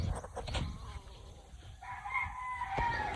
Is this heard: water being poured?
no